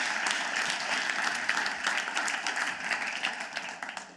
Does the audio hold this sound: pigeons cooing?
no